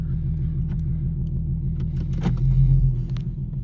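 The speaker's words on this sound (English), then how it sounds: "I hope you guys can hear the rumble. It sounds good." Deep, steady engine idle rumble of a modded 2014 Infiniti Q50 3.7, close by, with a brief swell in the low throb near the end and faint clicks over it.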